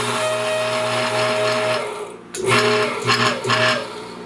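The motor of an antique Boice-Crane spindle sander, with worn bearings that had seized, hums loudly and close with a steady whine. About halfway through the run breaks into several short, uneven surges.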